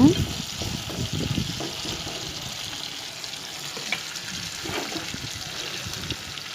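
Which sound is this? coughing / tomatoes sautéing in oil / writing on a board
tomatoes sautéing in oil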